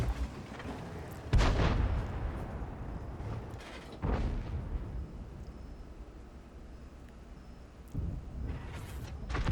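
Tank artillery in World of Tanks booms in three heavy, separate blasts a few seconds apart, each with a rumbling decay over a low battlefield background.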